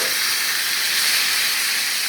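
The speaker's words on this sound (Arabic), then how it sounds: "التومة اتحمرت معايا، هطشها دلوقتي بشوية خل" Chopped garlic fried in a pan sizzles sharply as vinegar is poured in for Egyptian moussaka, a loud and steady hiss that lasts about two seconds with no talking.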